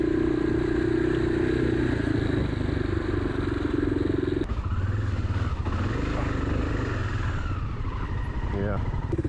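A motorcycle rides a muddy trail, its engine droning steadily throughout and picking up with more throttle on a straight stretch, with a clattering shift partway through and voices over the ride.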